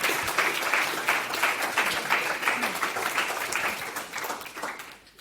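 An audience at a debate on open-source software sustainability claps together in a steady, dense round of applause that carries on for several seconds before tapering off at the end.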